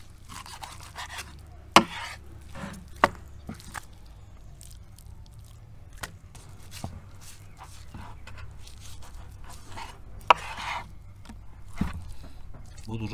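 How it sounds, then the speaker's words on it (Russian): A handful of sharp knife chops hit a board at irregular intervals, cutting meat into pieces for plov, with soft wet scraping and squishing in between. "Резать буду, друзья, вот на такие куски"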